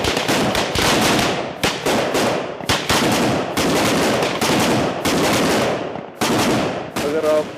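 Rapid, continuous bursts of gunfire from army commando training fill the whole stretch, loud and close, with short gaps between volleys and some faint voices mixed in.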